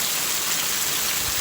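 Steady rain falls in northeastern Brazil during a storm with strong winds, a dense, even hiss of drops with no breaks across the whole short stretch.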